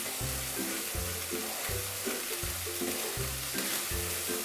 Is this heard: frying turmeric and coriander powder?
yes